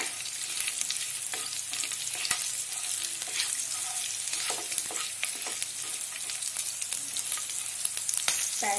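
Ginger, garlic and green chillies fry with cloves, cinnamon, black pepper and bay leaf in a pan, giving a steady close sizzle with occasional stirring scrapes and no talking.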